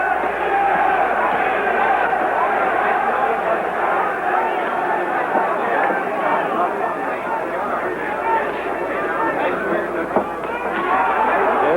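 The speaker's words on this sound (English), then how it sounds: "the roars of the crowd" A boxing arena crowd roars through round 3 of the 1966 Muhammad Ali vs Karl Mildenberger fight, a thick continuous din of voices that never lets up, with a commentator talking over it.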